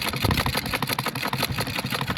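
A sewing machine stitches a blouse with a fast, even mechanical whir and rapid rhythmic clatter, steady and close throughout.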